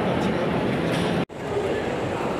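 Tokyo Metro Ginza Line subway train at Shibuya station, a steady loud rumble of the train running on the rails, with a brief dropout midway before the rolling noise resumes.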